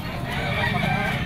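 A pumpkin stag rooster clucks or calls briefly amid a noisy, crowded poultry market, close and somewhat masked by background chatter.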